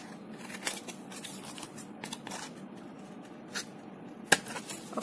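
Scissors cutting the corners of paper or card while making pop-up cubes, giving a few short, close snips and crisp rustles against a quiet background.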